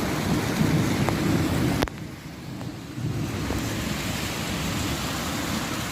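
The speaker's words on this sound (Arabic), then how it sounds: "شويه رعد الواحد بيترعب منه" Heavy rain pours steadily in Riyadh as a thunderstorm rolls through, a dense wash of rainfall with low rumbling beneath and a sudden sharp crack near the middle, after which the downpour continues slightly quieter.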